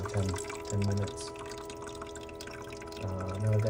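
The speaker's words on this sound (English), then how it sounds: "it'll just run the water from the tank through the whole machine for about 10 minutes" Water circulates from the tank through an Ecozy countertop ice maker running its cleaning cycle, a steady wash of trickling and dripping with a low mechanical hum and heavier pulses near the start and end.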